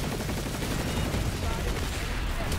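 Gunfire from the PC game Planetside 2, a dense continuous rattle of shots and low booms filling the whole stretch, with a faint voice beneath the noise.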